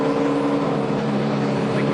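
A race car engine drones steadily throughout a NASCAR Ford 400 race broadcast, a continuous buzzing roar at moderate distance with no talking.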